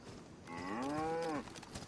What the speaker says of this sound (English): I just heard a cow